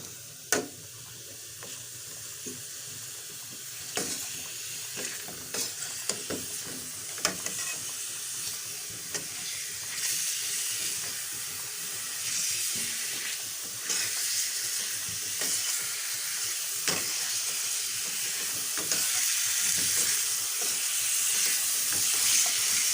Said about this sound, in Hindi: 2 से 3 मिनट तक हमने इसको फ्राई करना है।